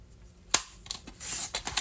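A paper cutter slices through a book page in a few quick crisp swipes and snaps, close and fairly quiet, with short pauses between strokes.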